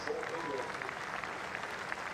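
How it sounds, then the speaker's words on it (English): A cricket crowd at a Test match applauds a batsman reaching 400 runs, a soft, distant patter of many hands that carries on evenly, with a commentator's voice faintly present. "Applause for the 400"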